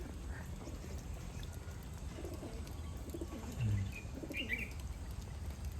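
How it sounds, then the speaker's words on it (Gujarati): Soft, low pigeon coos come through a steady outdoor hum, with faint chirps of other birds scattered in the background, in a village in Botad, Gujarat. "થોડાક કબૂતર આવી ગયા"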